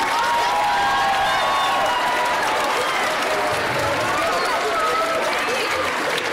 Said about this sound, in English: So please give us a round of applause for Miss Kennedy.